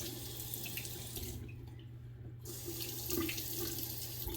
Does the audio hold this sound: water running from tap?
yes